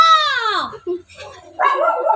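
A dog yelps with a falling, whining cry, then gives a short bark and a burst of rough barking, all loud and close.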